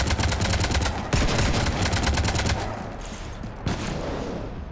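Rapid bursts of automatic gunfire in the sci-fi shooter Mass Effect 3, loud and dense with sharp repeated reports, easing off toward the end with a few scattered shots.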